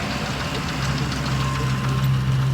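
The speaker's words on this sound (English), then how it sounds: "Wait till the tractor goes by." A tractor's engine rumbles steadily nearby with a low knocking throb, holding an even level throughout, with no talking over it.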